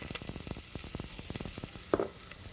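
Onion frying in oil in a pan on a television cooking show, a faint, even sizzle with quick crackling pops and a brief clatter near the end, no speech.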